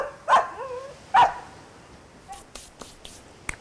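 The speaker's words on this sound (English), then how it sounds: "Marley ran in mad circles around Floris, barking and kicking sand everywhere." A dog barks twice in sharp, loud bursts at a beach, with fainter yips and sand-kicking scuffles trailing after; no talk.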